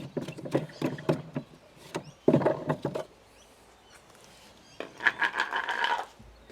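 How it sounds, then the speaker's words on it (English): Spare wheel being lifted out from under the trunk floor tray of a Mercedes ML350 W164, with bursts of scraping, knocking and rustling handling noises separated by a quiet pause, fairly close and moderately loud. "Come in and take the spare wheel out."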